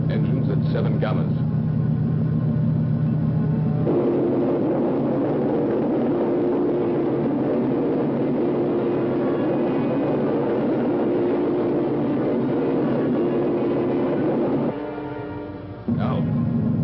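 Spaceship engines from a 1960 science-fiction film give off a steady, dense, low rumble with a constant hum. It runs unbroken for over ten seconds, with a slight shift in texture near the start and end.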